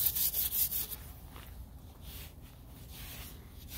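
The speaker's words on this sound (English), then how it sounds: "really easy to use this wire brush" A wire brush scrubs surface rust off a cast iron fireback in steady back-and-forth strokes, a close, gritty rasping that starts louder and settles into a continuous scratchy rub.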